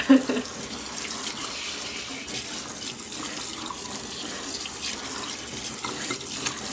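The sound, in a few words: running water from tap rinsing tie-dye garment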